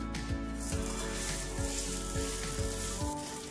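Cucumber thalipeeth, a fasting flatbread, sizzles steadily and loudly on a tawa griddle, with a faint repeating tap over the hiss and no talk.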